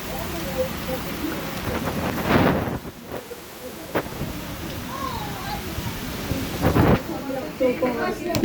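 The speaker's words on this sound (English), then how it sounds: "But the rain is making it hard to see out here" Heavy storm rain pours steadily with rumbling thunder surging around the middle and near the end, wind buffeting the microphone during severe tornado weather.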